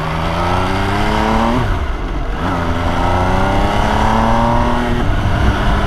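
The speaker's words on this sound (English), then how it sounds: "Yeah, that's quick shifter." An MV Agusta Brutale 800 motorcycle engine revs hard and close, with its pitch climbing. Two quick-shifter upshifts make brief dips before the engine pulls up again without a pause.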